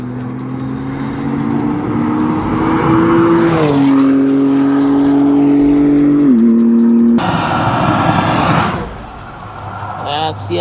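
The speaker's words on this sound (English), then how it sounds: "Here's a BMW going by." A BMW drives past, a steady engine tone rising into a loud, close pass and fading off, with another vehicle following and traffic noise around it.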